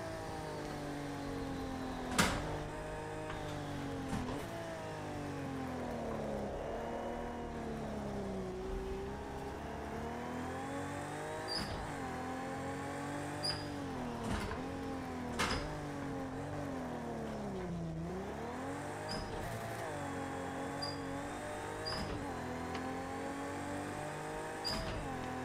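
Racing car engines in Project Cars 2 on a 1967 Le Mans layout, a steady loud drone of revving, shifting engine tones with rising and falling pitch as cars pass, continuous with no talk.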